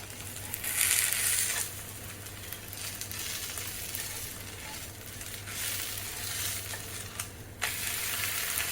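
Kayloli flatbread frying in oil on a pan, a steady close sizzle with occasional scraping and spatula clatter as the bread is lifted and flipped, with a low hum underneath.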